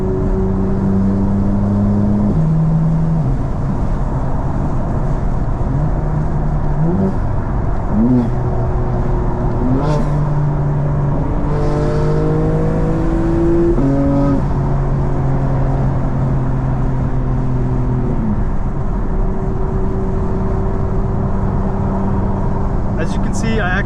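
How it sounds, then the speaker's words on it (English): A 2024 BMW M4 with exhaust valves open drones through city driving, the engine note rising and falling through gear changes as a person talks over it throughout. "I like actually having the valves fully open and the exhaust note turned to burbles off, so that it's a very clean sound"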